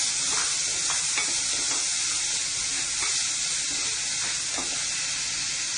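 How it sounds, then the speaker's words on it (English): Tomato frying with translucent onions in a hot pan, a dense, loud, steady sizzle with faint stirring clicks throughout, close and without speech. "Fry this till it become translucent. So now I'll add this tomato."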